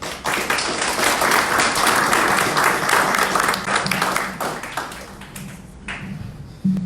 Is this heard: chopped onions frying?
no